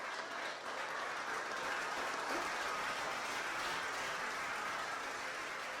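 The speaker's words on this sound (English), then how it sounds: "Give yourselves a round of applause." Audience applause at a political campaign launch in St Kitts and Nevis, a steady wash of many hands clapping that holds evenly for several seconds, heard from a distance with no talking.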